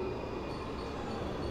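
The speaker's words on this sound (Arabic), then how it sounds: "قطار" A train running in the game Train Station Simulator, heard as a steady, fairly quiet rolling rumble with a faint high whine and no distinct clatter.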